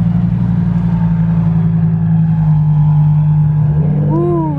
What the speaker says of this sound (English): listen to them turbos